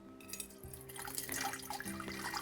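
Distilled water pours steadily into a beaker during a sodium hydroxide mixing setup, a close, soft trickling splash with a faint low hum in the background.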